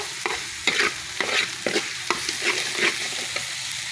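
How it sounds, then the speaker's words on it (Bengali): Fresh pond-caught rohu fish curry with ground spices and salt sizzles in a pan while a utensil stirs it in regular, rhythmic scraping strokes, each pass swelling the frying hiss, close and clear. "এখন সুন্দর করে লাড়াচাড়া দিয়ে দিব এটাকে ভালো করে দুইবার কষাবো"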